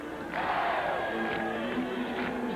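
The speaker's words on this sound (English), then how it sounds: "Definitely all the momentum and noise and pandemonium against the Wildcats right now." A big crowd roars in the stands at a 2000 high school football game between the Eagan Wildcats and Eastview Lightning, a loud sustained mass of cheering and yelling with whoops rising through it.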